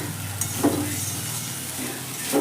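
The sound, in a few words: stirring banana stem and raw papaya in a pan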